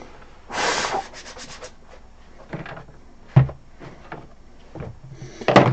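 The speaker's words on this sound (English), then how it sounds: "I'm going to get the sandpaper." A plastic skull is rubbed with sandpaper in short, rough scratching strokes that come in separate bursts, with a few knocks and handling noises between them and no talking.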